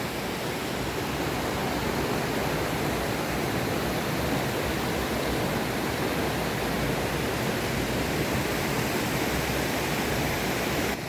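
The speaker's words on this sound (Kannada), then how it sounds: "ಅಂಥದ್ದೇ ಒಂದು ಜಲಪಾತ ಈ ಶೀರ್ಲಗದ್ದೆ ಜಲಪಾತ" Shirlagadde waterfall in Siddapur sends up a dense, constant roar of falling and rushing water that fills the whole stretch evenly, loud and unbroken, with no voices.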